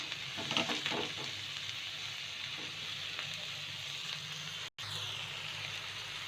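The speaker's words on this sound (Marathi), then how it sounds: "कोबी शिजत आल्यानंतर त्यात आपण टोमॅटो घालून घेऊया." Cabbage frying in a pan for tawa pulav with tomatoes added, a steady close sizzle with brief soft clatter near the start, continuous throughout apart from a momentary cut.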